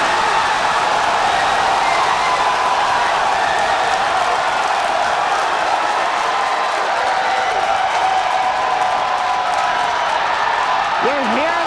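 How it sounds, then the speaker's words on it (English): Crowd cheering and whooping at the Starship stage separation during a launch watch, a dense continuous roar of many voices with applause, loud and sustained, with some talk mixed in. "You're hearing the cheering."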